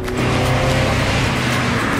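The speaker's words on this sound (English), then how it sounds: "Hark, the three-cylinder." The 59-horsepower three-cylinder engine of a small Seat Mii runs steadily close by, a continuous buzzing drone with no voices over it.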